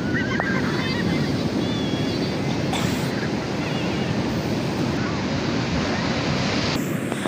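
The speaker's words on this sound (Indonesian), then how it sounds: "sekarang kita sudah sampai di pantai" Waves wash onto an Indonesian beach in a loud, steady roar of surf, with wind buffeting the microphone throughout and no clear breaks between the breakers.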